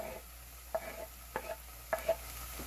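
Chopped chives tumbled into a hot pan for an eggless Caribbean corn pie, giving a soft steady sizzle with several short scraping stirs, close and fairly quiet.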